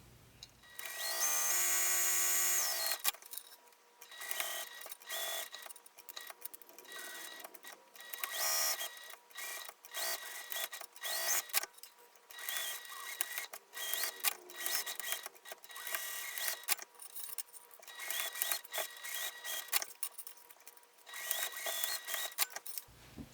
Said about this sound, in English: So let's go ahead and sew these steps and get these pieces prepped first.